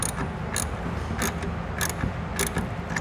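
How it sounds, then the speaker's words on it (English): A ratchet wrench tightening clamp bolts on a TruXedo Sentry hard tonneau cover fitted to a 2019 Ram 1500 pickup. It gives several bursts of close, crisp clicking in a steady rhythm, alone with no talk. "come back with the ratchet and tighten it down just a little bit more"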